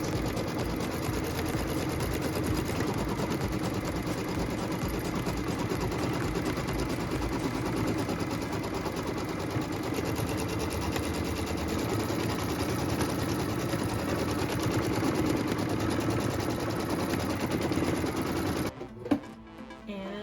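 A sewing machine pieces and quilts a fabric block in one pass, a steady, close, continuous rapid stitching whir that runs unbroken before stopping abruptly near the end.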